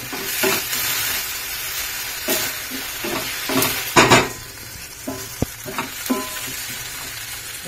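Tomato and onion fry in a pan for a Goan green beef curry, a steady sizzle broken by bursts of stirring and scraping, with a few sharp utensil knocks against the pan.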